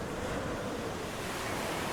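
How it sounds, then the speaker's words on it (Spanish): Ocean waves and wind in the Drake Passage, a steady, dense roar of surf with gusting wind buffeting the microphone, continuous and loud with no voices. "Lugar de vientos y corrientes, de intercambios de masas de agua y calor, de tormentas y olas que rozan los cielos."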